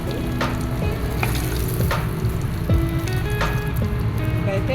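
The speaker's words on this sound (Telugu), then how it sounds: "ఆయిల్లో కొంచెం పసుపు వేసి వేయిస్తున్నానండి." Turmeric fries in oil in a pan, a loud steady sizzle with bright crackles and a few stirring scrapes, heard close and without speech.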